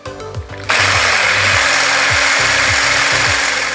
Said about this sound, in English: we're using an electric whisk today